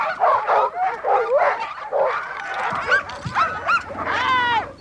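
Racing sled dogs bark and yip excitedly, a dense overlapping chorus of barks and whines close by, continuous throughout with some higher-pitched howling toward the end.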